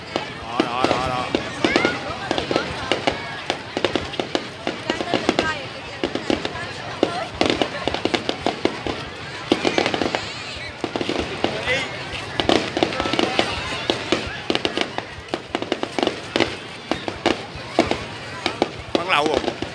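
Fireworks and firecrackers set off at a New Year Tet celebration at a national tourist area, a dense nonstop run of sharp cracks and pops, loud and close, with people talking throughout.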